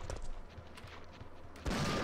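Shotgun blasts from the video game Resident Evil 3 boom through dense game ambience and music, with a heavy burst near the end that stays loud.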